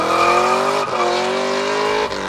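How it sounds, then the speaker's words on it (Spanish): A V8 engine revs loud and close, its harmonic tone sweeping through continuous rising pitch, with two brief shifts near one and two seconds as revs drop and climb again, no voices. "Un V8 puede sonar así de fresón o puede sonar así de atascado."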